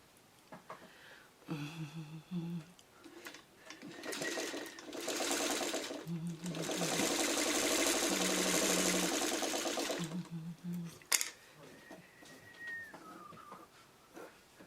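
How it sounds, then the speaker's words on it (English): Sewing machine stitching a scrappy quilt block in several bursts, the longest and loudest near the middle, with pauses between runs and a bird cooing in the background. "we'll get the last one sewn on here for this."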